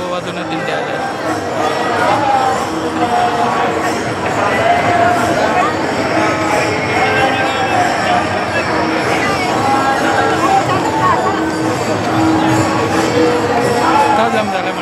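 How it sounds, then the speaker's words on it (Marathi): Dense crowd of pilgrims jammed near the river at the Pandharpur yatra, a steady close wash of babble, shouts and chatter running unbroken throughout, with occasional raised voices rising above the hubbub. "मंडळी पाहू शकता, गर्दी चक्का जाम झाला."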